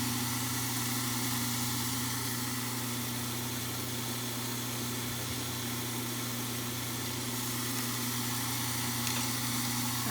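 A dental model trimmer for study models runs steadily and close by, giving a constant motor hum with a strong low whine and a broad grinding hiss that hold level throughout, with no talking.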